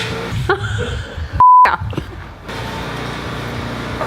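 A short, loud single-tone bleep cuts sharply through muffled talk and background noise, followed by quieter ambient sound.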